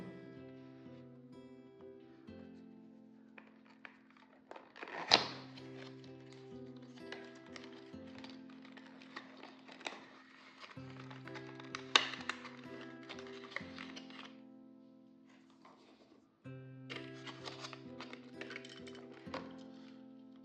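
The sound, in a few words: unboxing a Mini GT Lamborghini diecast model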